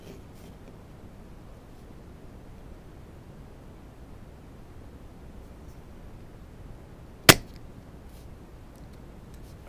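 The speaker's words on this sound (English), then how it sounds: "I will suck a couple of these plastic things" A desoldering pump fires once, sucking up a small plastic piece: one sharp snap against a quiet, steady hiss.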